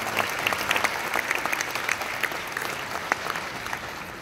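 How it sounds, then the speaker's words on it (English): An audience at the 2018 Marrakech International Film Festival applauds the international jury with steady, dense clapping that holds at an even level throughout, with no talk over it. "Please join me in giving them a round of applause."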